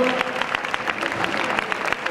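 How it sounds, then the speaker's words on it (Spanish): An audience at an international dog show claps in a brief, steady burst of many hands, with a few voices audible beneath the applause. "Un aplauso, por favor, mientras van abandonando el honor."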